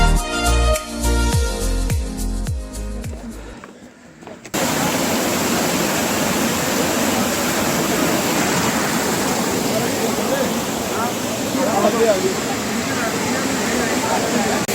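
Bhagsu Nag waterfall in Dharamshala roars with a constant, dense rushing wash heard up close, following a few seconds of music at the start.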